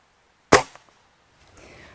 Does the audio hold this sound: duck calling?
no